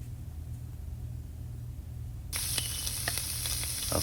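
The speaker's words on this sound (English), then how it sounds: "I start by sauteing my Cajun sausages." Cajun sausages sauté in a pan for jambalaya, a quiet low hum giving way midway to a sudden bright, steady sizzle with small crackling pops.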